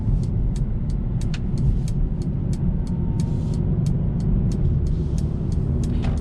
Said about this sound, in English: I love the way how this exhaust sounds like.